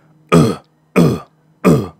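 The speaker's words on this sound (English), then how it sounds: "I'm talking about deep cough." Three deep, chesty coughs come one after another, evenly spaced, loud and close, with near silence between them.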